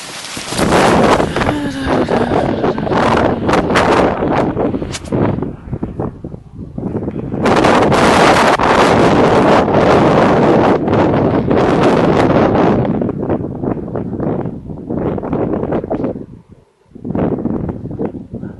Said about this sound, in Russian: Потому что дует ветер.